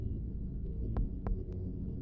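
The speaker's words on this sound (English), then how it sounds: "No, the heartbeat's still there." A heartbeat plays in a Minecraft horror map, a low, muffled throbbing pulse under a droning hum, with faint soft ticks above it.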